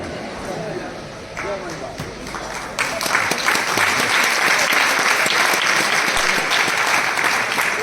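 An audience claps through a sermon by a Jain monk, a steady wash of applause that swells and grows denser partway through, with a voice speaking over it at the start.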